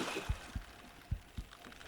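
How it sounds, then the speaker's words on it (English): Heartbeat effect in the Bassmaster Fishing 2022 video game at Lake Guntersville as a spotted bass bites: two pairs of soft, low thumps in a lub-dub rhythm over a hissy water-like background. "It's a heartbeat."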